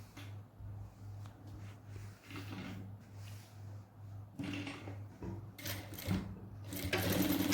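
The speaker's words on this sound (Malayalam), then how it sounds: "ഉള്ളിലേക്ക് മടക്കി നമുക്ക് സ്റ്റിച്ച് ചെയ്തെടുക്കാം." A sewing machine stitches a folded fabric edge for a pair of straight pants, its motor whirring steadily and up close in continuous runs, with no talking.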